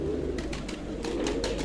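Pigeons coo in a breeding loft, a steady murmur of soft, repeated calls from several birds close by, with no talk.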